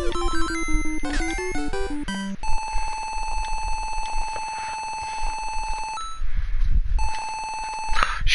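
Electronic chiptune ringing of a rigged-up wireless phone in the Chip & Dale Rescue Rangers video game, a steady repeating bell tone following a burst of game music, loud and close, with no talking.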